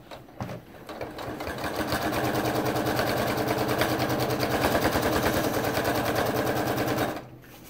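A sewing machine runs a quarter-inch seam on a prairie point border of a bow tie quilt top, a steady fast needle rattle that speeds up after a brief start and stops abruptly, close and alone.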